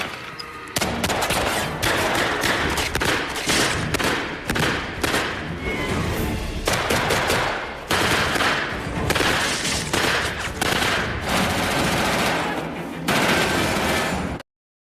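A war-film firefight with German soldiers: sustained loud gunfire, rapid machine-gun bursts and single shots overlapping with thuds, continuous and dense for most of the stretch.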